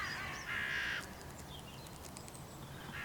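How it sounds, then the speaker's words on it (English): Hooded crows caw outdoors, one loud harsh call followed by fainter, more distant caws against quiet ambient background. "The crows really start to get wound up and start landing on and off beside the dead bird."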